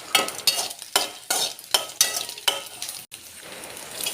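Onion, garlic and curry leaves fry in a pan for a dried prawn chutney, with a spatula scraping and stirring in regular close strokes over a soft sizzle.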